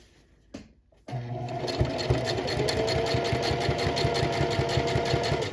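After a brief pause, a sewing machine starts up and runs continuously, stitching a tote bag with a steady, rapid mechanical chatter close by.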